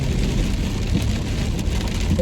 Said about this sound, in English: I highly doubt in this torrential downpour we're going to see Karen, Tim, or Sally.